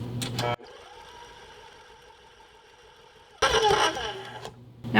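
An electric mixer beats eggs and vanilla extract into keto cookie dough, a steady close whirring drone lasting a few seconds, with louder clattering bursts at the start and end.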